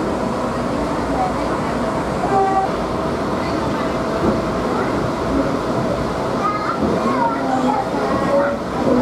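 The Batara Kresna train rumbles past nearby along Jalan Slamet Riyadi street with a continuous heavy roar, a few short horn toots sounding, while voices are faintly audible in the background.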